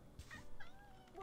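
A cat meows a few short times in the mobile horror game Ice Scream 2, faint and brief against quiet game background sound.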